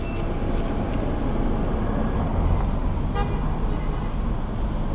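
A short car horn toot sounds once over constant roadway traffic noise nearby.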